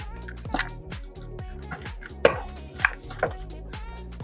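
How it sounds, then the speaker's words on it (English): Clinking and scraping of a utensil against a bowl, mixing sunflower seeds with condensed milk in a steady stirring rhythm, with a few sharper knocks, close by and moderately loud. "And now all you're going to do is mix, mix, mix."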